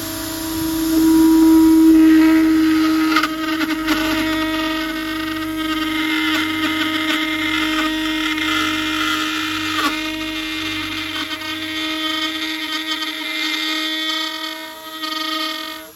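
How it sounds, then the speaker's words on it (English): A rotary tool with a round, pointed carbide bit cuts into the plastic body of an ARRMA Felony RC car, a steady high-pitched whine that runs close and loud for about sixteen seconds. "By choosing one of the round pointy tipped carbide bits, I can just apply a little bit of pressure to the plastic and it cuts right in."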